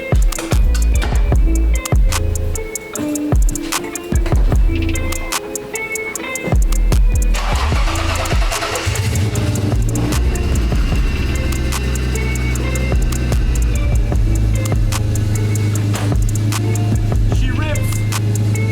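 A 1980s BMW E30 cranks and starts up, its engine catching with a loud rumble and settling into a steady, rough idle close by, with people talking over parts of it.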